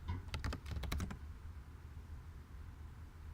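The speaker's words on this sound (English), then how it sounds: "So let me type in my password." A burst of quick keystrokes on a computer keyboard, typing a password into an SSH login, clicks closely in the first second, then gives way to quiet room hiss.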